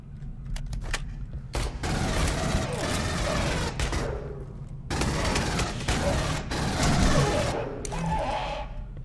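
Aliens: Colonial Marines smart gun firing in long, rapid automatic bursts, dense and loud, broken by short pauses, with explosions and battle noise around it.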